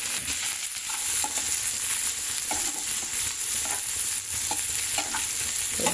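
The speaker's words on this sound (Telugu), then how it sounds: "ఒక 2-3 లవంగు, ఒకటి ఇలాచి, ఆనియన్, పచ్చిమిరపకాయలు ఫ్రై చేసుకుంటున్నాను" Onion, green chillies, cloves and cardamom fry and sizzle steadily in a pan for an egg masala, with a constant hiss broken by occasional stirring scrapes and no talking.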